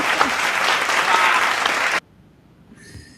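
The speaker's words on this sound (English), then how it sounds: "How many different applause sound effects do you have?" Dense clapping and cheering fills the first two seconds at steady loudness, then cuts off abruptly to near silence with a faint high tone at the end.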